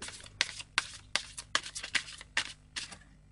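Cards drawn one by one from a deck during a tarot-style reading, giving about nine crisp papery flicks in a steady rhythm, close and fairly quiet, with no talk.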